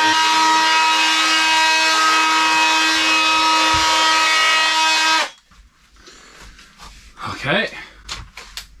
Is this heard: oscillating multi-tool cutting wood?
yes